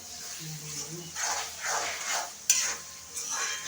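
Onion frying in oil with garlic-ginger paste, a short close burst of sizzling and stirring with a sharp clink of a spoon against the pan near the middle.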